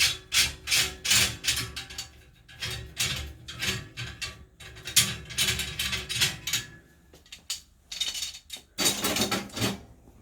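Metal safety bar being worked free from the door of a laboratory launder-ometer used for colorfastness testing: a run of rubbing, scraping and clanking mechanical noises, close and moderately loud, with brief pauses between bursts.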